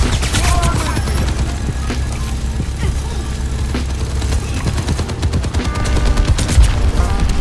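Rapid gunfire from an Overwatch 2 ranked match, with dense bursts of shots and impacts running continuously over game music and effects.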